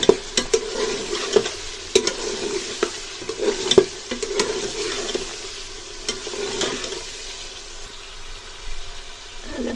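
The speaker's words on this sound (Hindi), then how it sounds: "हम हांडी की ना भुनाई" Tender kachnar mutton cooked in ghee is stir-fried in a handi, a continuous sizzle punctuated by repeated sharp scrapes and knocks of the spoon, busier at first and easing off later.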